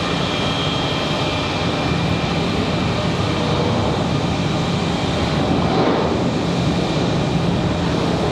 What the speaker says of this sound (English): Aeromexico Connect back to Mexico City in their updated livery.